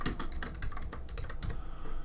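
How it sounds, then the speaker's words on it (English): Fast, steady typing on a computer keyboard, close and clear, with dense irregular clicks running continuously and no voices. "typing in Fit Sources"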